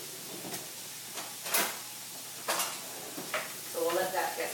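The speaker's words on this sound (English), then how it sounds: "I'm going to saute my onions now." Onions saute in a pan for turkey stuffing, giving a soft, low sizzle broken by several sharp scrapes and knocks of stirring against the pan, with a voice faintly heard near the end.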